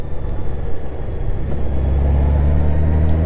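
Honda Goldwing motorcycle cruising twisty mountain roads at Wolf Pen Gap, a steady loud engine drone with heavy low rumble and wind noise, continuous throughout.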